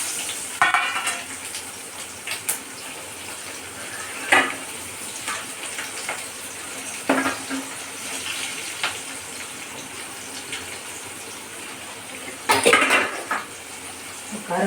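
Onion frying in a pan for fish curry after fenugreek seeds, a continuous sizzle broken by scattered spoon scrapes and pot clanks, with a louder clatter near the end.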